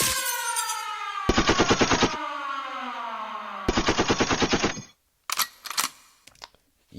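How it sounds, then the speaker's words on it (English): Gunshot sound effects placed in an FL Studio trap beat: two bursts of rapid, loud machine-gun-style shots fire over a sustained synth melody, followed by sparse sharp hits and brief gaps of silence, with no talking. "some like gunshot effects, and you guys will hear it"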